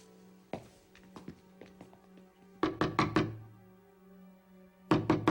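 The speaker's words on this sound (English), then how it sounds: "I know you're in there, Olivia, so you may as well open the door" Knocking on a door: a first set of several raps, then a louder cluster of four firm knocks, and a final burst of knocks at the end, close and sharp in a quiet room.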